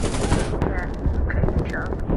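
Dense automatic gunfire rattles loudly and continuously during play in the video game Insurgency Sandstorm, with heavy rapid bursts that fill the whole moment and leave no gaps.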